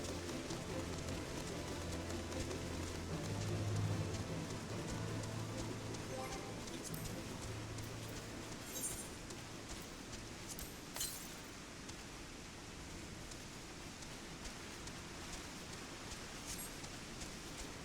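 Steady rain hisses throughout a video game scene, with occasional soft chirps and faint taps over the constant wash of falling water.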